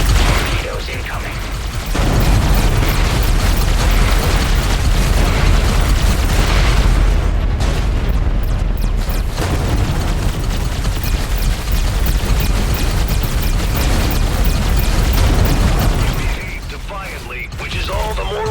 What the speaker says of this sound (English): Torpedoes incoming.